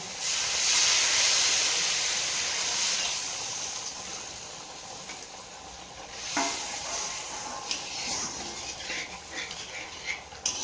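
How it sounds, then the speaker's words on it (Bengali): Water poured into fried ginger masala in a hot pan, cooking for potato posto and country-chicken egg curry, sets off a loud steady hiss of steam that slowly fades, followed by scraping stir strokes and light crackles near the end. "মশলাটা ভাজা হয়ে গেছে, এবার এর মধ্যে জল দিয়ে দেবো।"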